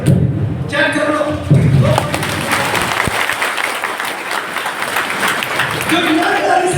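A meeting audience in Kukshi, Madhya Pradesh claps loudly and steadily throughout, a dense wash of hands with a few heavier thuds and voices mixed in.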